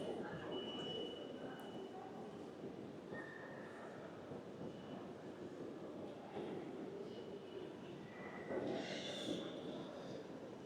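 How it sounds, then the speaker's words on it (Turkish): Platform ambience at a Paris train station: a steady rumble of trains and rail noise with faint announcements or squeals, a distant murmur of voices and occasional brief tones across a busy hall. "sizlere şöyle bir Paris tren istasyonunu göstereyim istedim"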